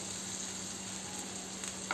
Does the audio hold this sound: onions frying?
yes